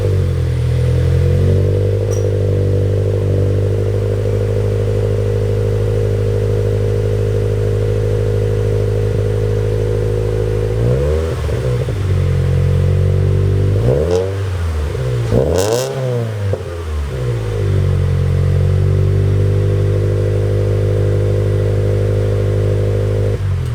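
Toyota GT86 fitted with an HKS full titanium exhaust, revved hard: a steady loud idle broken by several sharp throttle blips and rising revs, close to the tailpipe with no talking.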